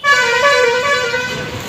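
Vehicle horns sound in street traffic in Bhubaneswar, one loud sustained honk close by that fades slightly over its length, without any talking.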